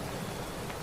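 Heavy rain pours at night as a steady, dense hiss with no break and no voices.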